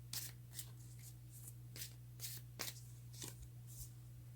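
Tarot cards are shuffled and drawn by hand in a quiet room, a series of soft, crisp riffles and slides in short bursts over a faint steady hum.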